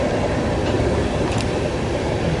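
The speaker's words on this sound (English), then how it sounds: "Just follow that original BN car as it continues north now on the Sioux City sub." A freight train rolls past in Ashland, Nebraska, with an old BN railcar in the consist, a close, loud and continuous rumble of wheels and cars with faint clicking, and no voices.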